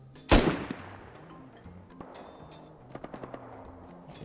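Gunfire in the online survival game Rust Console Edition: one loud close shot, then a pause and a quick run of sharp, more distant automatic bursts.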